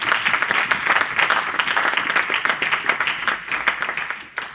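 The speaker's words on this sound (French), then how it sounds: "On acclame encore le Seigneur pour sa parole." A church congregation breaks into dense, steady applause that fills the room, many hands clapping together at close range and fading slightly toward the end.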